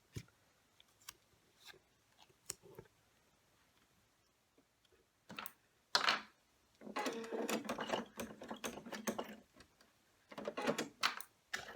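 Embroidery machine stitching an in-the-hoop ID badge holder in a 4x4 hoop, running in close, loud bursts of rapid mechanical stitching separated by short pauses, with scattered clicks and taps in the quieter stretches.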